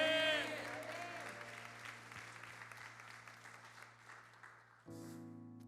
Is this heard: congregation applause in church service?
yes